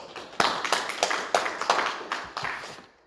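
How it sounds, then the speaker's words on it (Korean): A small gathering at a church service of a drivers' mission society claps briefly, a handful of hands giving sparse, slightly uneven claps that fade out within a few seconds. "박수 한번 드립시다."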